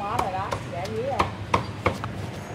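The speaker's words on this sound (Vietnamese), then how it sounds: "đang băm nhân topping bánh mì" Knife chopping meat filling for a banh mi topping on a board, sharp regular thwacks about every third of a second, close and fairly loud, with faint background chatter.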